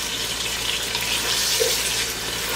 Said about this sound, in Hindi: अदरक लहसुन को अच्छी तरह से हम भुनेंगे जब तक इसमें से अच्छी सी स्मेल ना आए